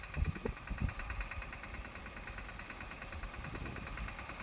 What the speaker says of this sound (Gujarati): હાલ્યું હવે ટ્રેક્ટર